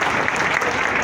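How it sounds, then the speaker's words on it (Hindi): Brief burst of audience applause at a gathering, dense continuous clapping filling the whole moment. "इनके लिए फिर ताली बजाइए।"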